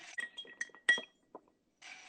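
A bar spoon stirs ice in a glass for a cocktail, making a run of close, bright clinks and rattles in an uneven rhythm. A short pause follows, then more clinking.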